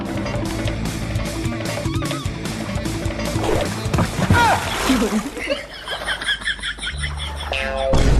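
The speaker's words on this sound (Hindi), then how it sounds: "पानी बढ़ता ही जा रहा है।" Water splashes and sloshes as floodwater rises in a village comedy sketch, with bursts of splatter amid lively voices, shouting and laughter over a busy background.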